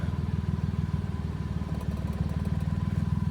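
A Mitsubishi Mirage engine idles with a steady, loud, close mechanical pulsing and clatter throughout, the rhythm even and continuous after starting, with no talk.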